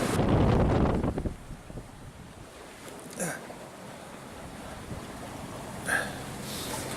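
Strong wind batters a sailboat at sea in the Bay of Biscay, with a loud rushing gust at first that eases into a steady windy hiss broken by brief flapping bursts.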